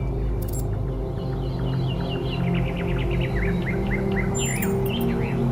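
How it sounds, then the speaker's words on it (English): Birds chirp outside a door in the video game Talos 2, many quick tweets and trills rising and falling over a steady low hum of ambience, moderately near and continuous. "Do you hear the birds chirping outside the door?"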